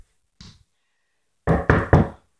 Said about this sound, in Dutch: Ik klop nu gewoon naar mijn eigen kamer.